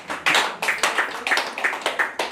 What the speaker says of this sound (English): I want you to really clap to the Lord for bringing me to the house